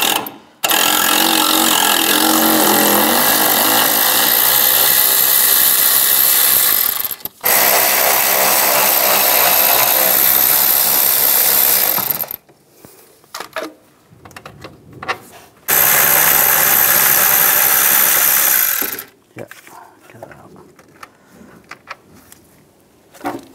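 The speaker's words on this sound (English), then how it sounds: "Use a 10mm socket, take those out." Power tool driving a 10mm socket on bolts of a 1998-2010 Volkswagen Beetle during starter replacement: loud sustained whirring bursts with pauses and light clicks between them, close up.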